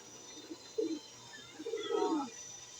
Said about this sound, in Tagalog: Ito ang ating mga ibon.